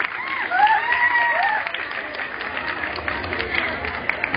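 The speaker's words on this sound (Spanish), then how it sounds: "Fuerte el aplauso de toda la escuela" Whole-school applause during a secondary school flag-honors assembly, a dense, steady wash of crowd clapping with a shout or whistle-like voice rising over it early on.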